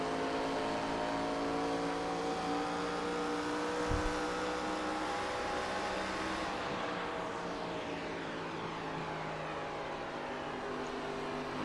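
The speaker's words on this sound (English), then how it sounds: "You hear the airflow kind of reverberating right around the car, right around the track." A race car in a racing video game at Nashville Superspeedway drones at high, steady revs with whooshing airflow, the engine tone sliding and shifting partway through as it carries around the track.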